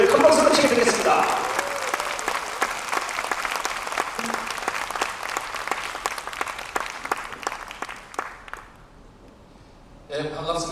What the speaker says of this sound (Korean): 우리 이희철 교수님의 연설을 큰 박수로 청해드리겠습니다.